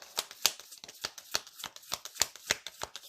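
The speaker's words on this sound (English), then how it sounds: "It's a problem with these shaped decks. They're so hard to shuffle." Rapid, crisp riffling of a shaped tarot deck being shuffled close by, a steady run of sharp flicks and taps with no voices.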